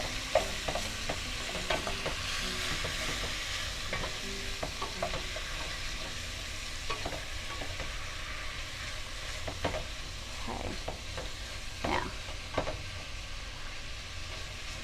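Beef for French-style stroganoff sizzles and browns in melted butter in a pan, a steady close frying hiss broken by scraping and clinking as the meat is stirred and broken up, with no talking.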